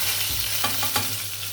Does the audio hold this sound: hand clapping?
no